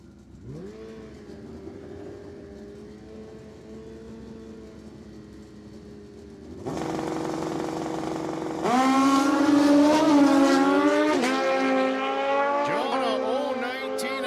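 Drag race cars at Cordova Dragway in a Quarter-Max points race: a low idling engine hum, then engines roar to full throttle and launch, loud rising revs with gear changes sweeping upward, heard from a distance.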